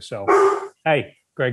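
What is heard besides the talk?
dog barking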